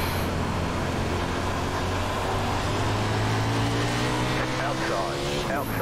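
Steady drone of 360 sprint car engines on the Eldora Speedway dirt oval in iRacing, loud and continuous, with a second car's engine pitch rising and shifting alongside near the end.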